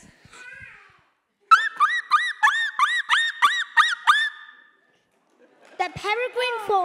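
A voice imitates a bald eagle call: a quick series of about ten high, shrill piping notes, loud and close, bracketed by brief vocal sounds.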